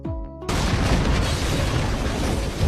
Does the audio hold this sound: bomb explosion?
yes